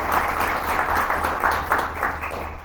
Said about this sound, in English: a round of applause for the City of Tempe